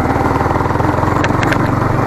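A Yamaha MT15 BS6 motorcycle engine runs loud and close with a fast, even pulsing beat, holding a steady rev with no voices over it.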